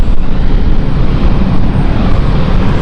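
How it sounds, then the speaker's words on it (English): Aircraft engines revving up on the ground at London City Airport as a crew troubleshoots, a loud, steady, close roar filling the whole moment with no voices. "the engines rev up slightly."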